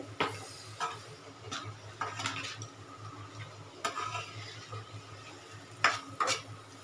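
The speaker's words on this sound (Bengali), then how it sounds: "নাড়াচাড়া করে চিকেনটা বানিয়ে নিচ্ছি" A spoon stirs chicken filling in a hot pan, giving soft scraping strokes and occasional sharp clinks against the metal over a low, steady sizzle.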